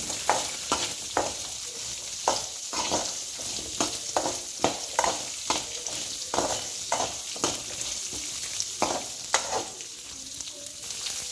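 A large chopped onion sautéing in oil in a pan, a constant sizzle punctuated by regular, rhythmic scraping strokes of a spoon stirring, close and fairly loud.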